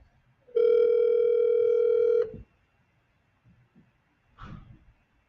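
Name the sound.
telephone ringing on an outgoing call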